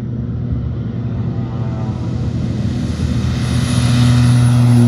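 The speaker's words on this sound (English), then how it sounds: "So this is the Crisco aircraft turboprop." Turboprop crop-dusting aircraft spreading fertilizer in Waikato, New Zealand, powering up close by: a loud, steady droning engine and propeller roar that swells louder toward the end, heard alone.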